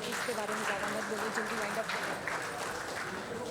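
An audience at a panchayat awards gathering claps for a woman village head, a steady wash of applause under a voice speaking over it.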